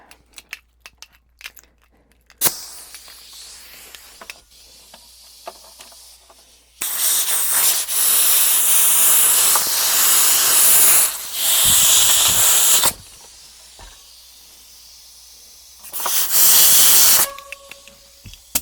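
Long bursts of loud rushing hiss from a compressor-driven air pump inflating a tubeless Vittoria Corsa Pro bicycle tire come and go, with clicks and handling noises in the quieter gaps.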